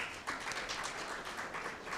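Guests at an awards dinner in a Nairobi hotel give a winner a soft, steady round of applause, heard at a distance. Many overlapping claps blend into an even patter with no voices.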